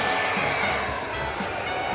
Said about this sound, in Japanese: 次は？ ドライヤーしよう。